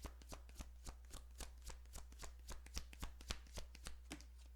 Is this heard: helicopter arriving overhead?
no